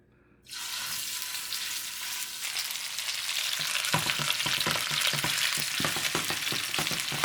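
Chicken drumsticks drop into hot oil and erupt into a loud, sustained sizzle that builds steadily, with rhythmic crackles and pops, close and free of talk, after a brief quiet start.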